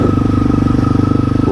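A Honda CRF250L motorcycle engine chugs loud and close at a steady low pulse while riding through snow, a continuous rhythmic single-cylinder thrum with no talk over it.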